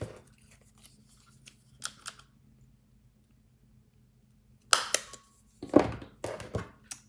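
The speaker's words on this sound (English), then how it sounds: "Let me grab my paper punch" A paper punch snaps through paper or cardstock in a quiet room: a few faint clicks early on, then a sharp crunching punch followed by several quick clacks and rustles near the end.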